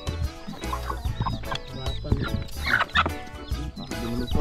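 A chicken clucking in short, repeated bursts close by, mixed with other farmyard noise and some background talk.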